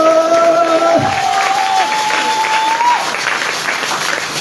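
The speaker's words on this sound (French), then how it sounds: "Acclame." A congregation applauds during a French-language church sermon: loud, dense clapping that fills the whole four seconds, with a faint sustained tone at the start.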